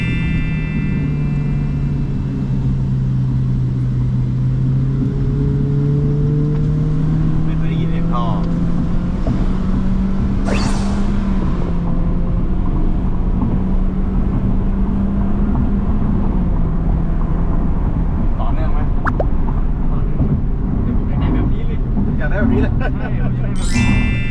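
A remapped petrol sedan accelerates through the gears, heard as a loud, continuous engine drone from inside the car. Its pitch climbs steadily and drops back at each gear change.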